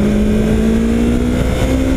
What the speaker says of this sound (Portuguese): Eu adoro o motor dessa moto